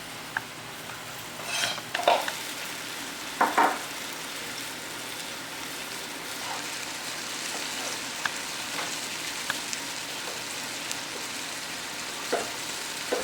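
Jarred roasted red peppers, finely diced, sizzling in a hot pan for a short rib dinner, a steady close frying hiss with a few sharper stir clatters and crackles near the start.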